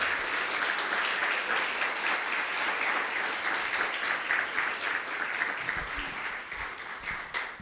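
A church congregation applauds during a worship service, giving sustained, dense clapping from many hands that stays fairly even and fades slightly at the end.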